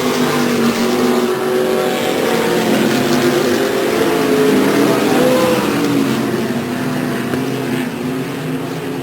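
Limited sprint class race cars circling a dirt oval in a main event, a loud, continuous dense roar of several engines with shifting pitch as they run through the turns, steady throughout with no clear talk.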